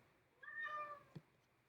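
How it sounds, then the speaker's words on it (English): A house cat lets out a single soft, rising meow, faint and alone against a quiet room, followed by a brief small click. "Oh, my cat's here."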